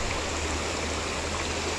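A small stream flows at a picnic spot, its continuous even rush of water close and steady throughout, with no voices.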